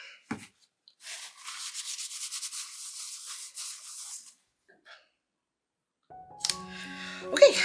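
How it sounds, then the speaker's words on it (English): A card is wiped clean with rubbing alcohol: a steady, soft rubbing scrape lasting about three seconds, close and fairly quiet, followed by brief handling clatter. "And I'm just going to clean this with some rubbing alcohol."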